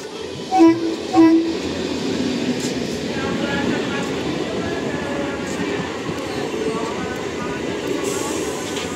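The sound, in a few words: commuter train passing with horn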